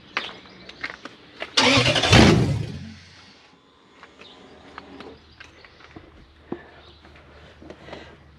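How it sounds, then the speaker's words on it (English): A Toyota 1UZ V8 engine with open headers, in a KZN130 Surf, cranks and fires with a loud, raw exhaust roar for about a second, then drops away, leaving scattered light clicks and knocks. "Oh, open headers, so it's going to be vroom, vroom, loud"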